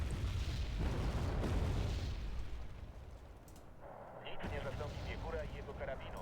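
Gunfire and explosions from the strategy video game Wargame Red Dragon rumble in dense bursts. Loud booms come first and ease into quieter crackling shots, with someone talking over part of it.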